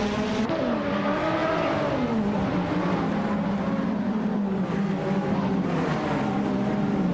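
A 1988 Benetton B188 race car in a racing video game gives a sustained, high-revving engine whine with gliding pitch shifts as it changes gears, loud and continuous with no talk over it.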